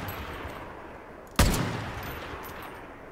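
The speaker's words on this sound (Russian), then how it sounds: "Начинаем стрелять." Gunfire in the video game Far Cry 5: a single sharp, loud shot or burst cracks out midway through a quiet stretch, followed by a short decaying tail.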